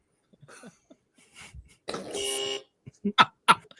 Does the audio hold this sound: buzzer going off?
yes